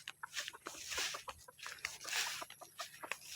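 Tired pet chicken clucking close by outdoors, a rapid series of short, sharp clucks in uneven bursts, fairly quiet and alone.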